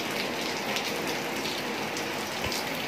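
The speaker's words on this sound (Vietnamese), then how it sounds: "Đang mưa." Steady rain falls outdoors in Dak Lei, Dak Koi, spattering close by in a continuous hiss, with a few louder drips over a constant wash and no voices.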